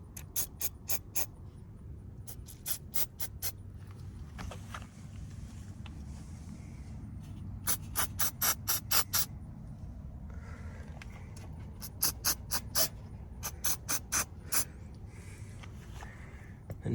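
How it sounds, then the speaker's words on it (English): Penetrating oil sprayed onto six Torx bolts on a Jeep Cherokee XJ door, heard as several bursts of short, sharp hissing sprays in quick clusters over a low steady background hum, fairly faint with no talking. "We're gonna take some penetrating oil and spray all 6 of the Torx bolts"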